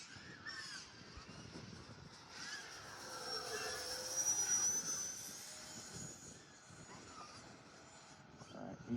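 A 50mm electric ducted fan RC jet whines in the air as its throttle eases back toward idle. The fairly faint, steady whir drifts slightly in pitch over outdoor background noise.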